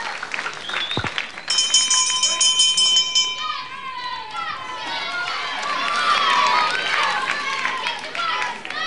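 A ringing bell marks the end of a round at a World of Sport wrestling bout, one sustained bright ring over crowd noise, cheering and commentary.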